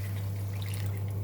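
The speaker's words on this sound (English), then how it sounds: "Let's add water," Water pours steadily into a pan of prawn masala, a close, continuous splashing trickle over a low steady hum, with no speech.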